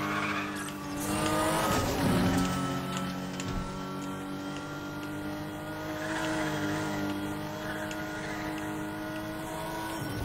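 A car driving fast in the racing game Need For Speed The Run, with a steady engine drone and some tire squeal. Near the start it surges louder, then it settles into a continuous, close roar.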